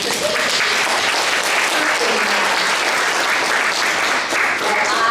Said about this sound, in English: let's give a clap for that.